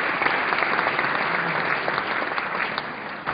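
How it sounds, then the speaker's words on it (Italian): The audience at the Spazio 900 awards ceremony for young Fiamme Gialle athletes applauds steadily, a broad even clatter of many hands in a large hall. "Gli applausi della platea di Spazio 900 hanno salutato anche quest'anno la premiazione 2011 degli atleti delle Fiamme Gialle sezione giovanile."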